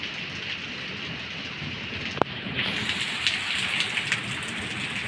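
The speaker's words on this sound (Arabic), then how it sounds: "راهي امطار يعني ربي يبارك ربي يرزقنا" Rain falling at night, a steady close hiss of drops on surfaces with a single sharp knock partway through; no one speaks.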